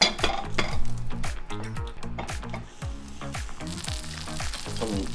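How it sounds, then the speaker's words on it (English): Frozen buttermilk pancakes fry in melted butter in a pan with a continuous sizzle, broken by clinks of a utensil against the pan, while steady tonal music plays underneath. "These are refried buttermilk pancakes. And they've been frozen solid after making them. Now in a pan with some melted butter,"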